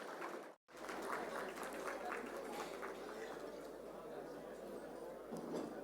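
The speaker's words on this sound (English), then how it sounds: "Can we have a round of applause," An audience at a summit session applauds steadily, a soft, even wash of clapping that carries on for several seconds after a brief gap.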